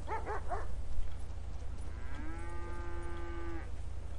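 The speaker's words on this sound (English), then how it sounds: "Cows." Cows mooing in the video game GTA 5: a few short barking calls come first, followed by one long, drawn-out moo over a steady low rumble.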